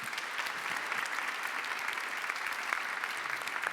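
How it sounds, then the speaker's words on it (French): Applause from a church congregation during Mass, a steady, dense clapping of many hands that fills the whole few seconds at moderate loudness, with no talk over it. "On peut t'applaudir."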